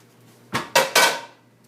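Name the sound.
frying pan being taken out and handled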